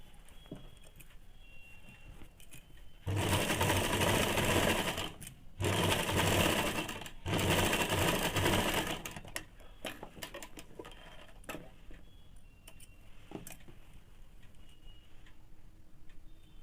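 A sewing machine runs a stay-stitch seam along a ladies' pant pocket in three close, loud bursts of rapid stitching with short pauses between them, then falls quiet.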